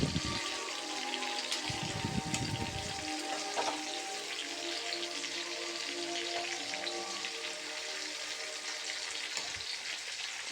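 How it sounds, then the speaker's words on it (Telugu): Chicken pieces fry in hot oil over a high flame, giving a dense, steady sizzle with brief louder crackling spells and occasional stirring clatter, close and unbroken throughout. "కొంచెం ఫ్రై అవ్వాలి. ఇవి స్టవ్ హై స్పీడ్లో పెట్టేసుకోవాలి."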